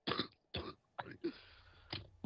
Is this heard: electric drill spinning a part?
no